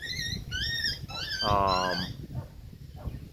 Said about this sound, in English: these dogs are having fun. They play rough, you know.